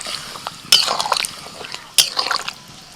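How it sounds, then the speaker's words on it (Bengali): Water splashes into a pan of cooking curry of potato, soybean and jackfruit, two sudden hissing bursts as it hits the hot pan, followed by bubbling and sputtering. "এবার জল দিয়ে দিচ্ছি।"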